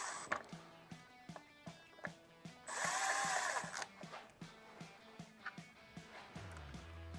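Short bursts of a power drill whirring as it drives screws into a Harley-Davidson Road Glide body, with repeated clicking ratchet-like ticks between them, close and fairly quiet.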